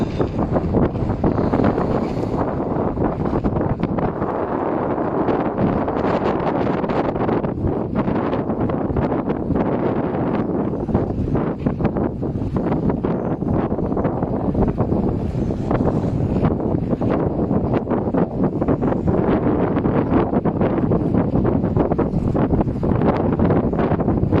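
Strong, steady wind buffets the microphone with a continuous low roar and rustling gusts throughout, loud and close.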